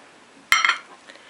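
Large faceted drinking glass set down on a plate while preparing a holiday herring-under-a-fur-coat salad: a single crisp clink with a brief ringing tail, close by in a quiet kitchen.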